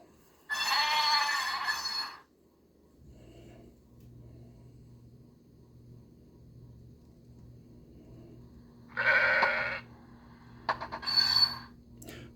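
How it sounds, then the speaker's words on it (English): A model train sound decoder plays two separate bursts of electronic sheep bleating, the first lasting over a second, the second shorter, over a low steady hum with faint clicks afterward. "there's the sheep."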